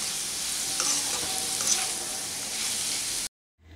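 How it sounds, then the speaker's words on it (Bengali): Potato fry sizzling steadily in a pan while being stirred, a constant bright hiss with a few scraping stirs, then cut off abruptly as the gas is switched off near the end. "ভালো করে আলু ভাজাটাকে আরও একবার নেড়ে নিয়ে"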